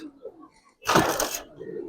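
Giribaz and coloring pigeons at a loft give a single short, loud coo burst in the middle, with faint background murmur before and after.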